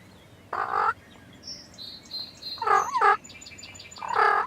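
Wild turkey gobbler gobbling in a field during a spring hunt, several rattling gobble bursts at moderate distance between quieter bird chirps, with no talking.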